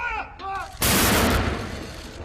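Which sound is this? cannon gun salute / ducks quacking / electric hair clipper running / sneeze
cannon gun salute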